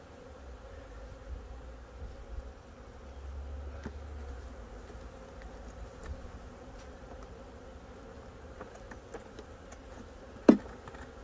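Honey bees drone softly around an open hive during a brood frame inspection, a steady low buzz with faint clicks and one sharp tap near the end, no talk.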